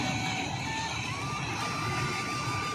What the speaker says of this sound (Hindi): यहाँ पे माँ गंगा की जो आप गर्जना है शोर है वो आप सुन पा रहे होंगे